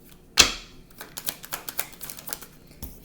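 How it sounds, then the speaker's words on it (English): Tarot cards being shuffled by hand: a sharp riffle snap, then a quick run of light, crisp card slaps and flicks, fairly close and alone. "Did I just shuffle the cards?"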